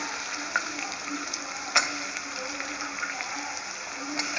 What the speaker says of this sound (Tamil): ஒரு 2 நிமிஷம் இந்த வெங்காயத்தை நல்லா வறுத்துட்டு அதுக்கப்புறம் தக்காளி ஆட் பண்ணுவோம்